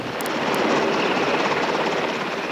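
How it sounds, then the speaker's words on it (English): Apache attack helicopters flying fully loaded over mountainous terrain in Kosovo, 1999, produce a loud, steady rotor and engine roar that fills the whole stretch without letup. "But the Apaches are, at the least, challenged by the terrain. They fly fully loaded at altitudes thousands of feet above sea level"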